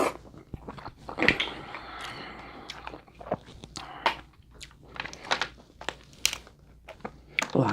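Crab legs crack and crunch during a seafood boil meal with shrimp and sausage, with close, messy bites, crinkles and snaps in irregular bursts.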